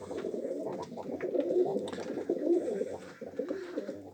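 Pigeons coo continuously in low, throaty murmurs, several birds overlapping close by against a steady rustling background.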